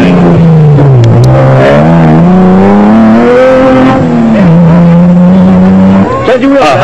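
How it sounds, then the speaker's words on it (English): Toyota Land Cruiser in the production vehicle category of an off-road race in South Africa, engine droning loud and close with rising and falling revs and gear changes throughout. "Arby Reiniger had moved up 11 places in the Castrol Toyota Land Cruiser and was lying 6th in the production vehicle category after just an hour of racing."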